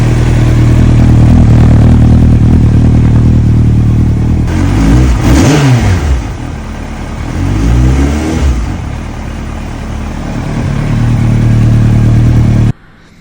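Yamaha R1 sportbike with damaged fairings, engine idling loudly then revving up in two rising-and-falling bursts before settling back to a steady idle and cutting off abruptly.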